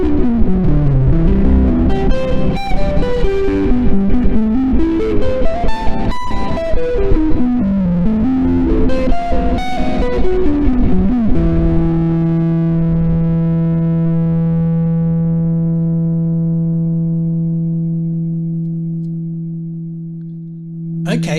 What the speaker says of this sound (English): with the Black Mirror Reverb on, this is on the new Reflect and Survive